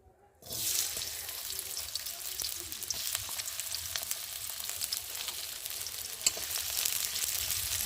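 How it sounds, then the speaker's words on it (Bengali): Chopped onions hit hot oil in a wok and fry with a sudden loud sizzle that settles into a steady, close crackling hiss with faint stirring, no voices. "এখন দিয়ে দেবো পেঁয়াজ কুচি"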